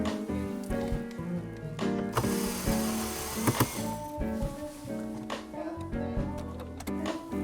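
Ratchet turning out size 10 hex screws that hold a Toyota Tacoma Entune Premium 2.0 radio in the dash, with rapid, close clicking over a steady mechanical whir, running continuously.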